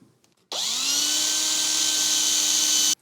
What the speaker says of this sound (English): Pre-drill a hole.